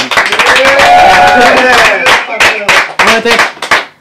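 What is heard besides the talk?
audience applause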